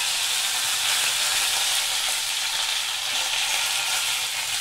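Curry leaves crackle and fry in hot oil in a pan for a South Indian kovai kaai (ivy gourd) tempering, a steady dense sizzle that stays loud and even throughout with no voices.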